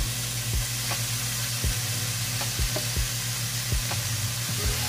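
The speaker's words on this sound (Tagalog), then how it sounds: "Unang ilalagay ko guys yung pork." Pork sizzling steadily in a pan for adobo, a loud continuous frying hiss with a low hum underneath and periodic knocks or scrapes from stirring, no talk.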